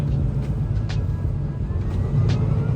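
A semi truck pulls up at a truck stop in sub-zero cold, its engine giving a steady, loud low rumble with a deep drone, plus a few brief higher hisses.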